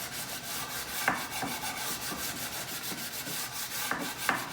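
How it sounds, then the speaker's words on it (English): Hand sanding across a wooden Adirondack chair part in a school wood shop, steady rhythmic rubbing strokes of abrasive on wood, close and moderately quiet, with a few sharper scrapes standing out. "Just sand a little bit."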